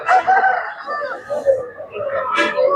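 A rooster crows amid the bustle of a busy poultry market, its call rising over other fowl and the murmur of voices nearby, with people talking throughout.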